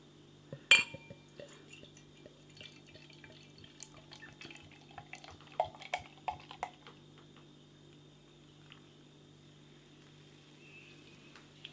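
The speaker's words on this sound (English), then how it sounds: "let's get this beer out into a glass and see what we get" A bottle of Star Wing Stain Glass Blue robust porter, 5.4% ABV, opens with a sharp glass clink, then dark beer trickles and drips into a glass in soft uneven splashes over a steady low hum.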